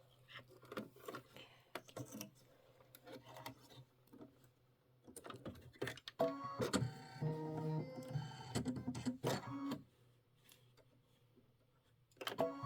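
Faint, uneven ticking and tapping from an embroidery machine working through a Kimberbell mini quilt block, coming in scattered clusters with quiet gaps and a busier stretch in the middle.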